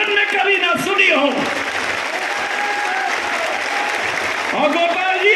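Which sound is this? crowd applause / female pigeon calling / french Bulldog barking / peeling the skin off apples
crowd applause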